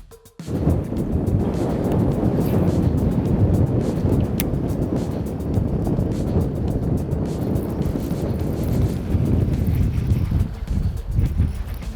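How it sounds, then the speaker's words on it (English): Steady, rushing wind blows across an outdoor fishing spot on the water, a loud continuous roar with gusty buffeting that lasts the whole stretch without any voices. "we're fighting a lot of wind out here"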